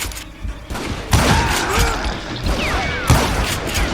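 Rifle shots in Call of Juarez Gunslinger: loud, sharp reports at about one-second intervals, each trailing into echoing debris and ricochet whistles amid game noise.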